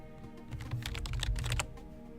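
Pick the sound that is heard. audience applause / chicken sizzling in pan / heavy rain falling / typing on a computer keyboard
typing on a computer keyboard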